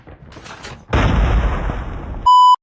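A frag grenade goes off in Call of Duty Mobile with a sudden heavy boom, after some faint rustling, and a rumbling tail that fades over about a second before a sharp electronic beep cuts in.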